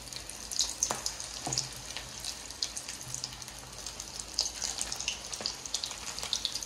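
Prawn pakoras fry in hot oil with a soft, continuous sizzle and scattered crackles and pops, faint and close, with no voices.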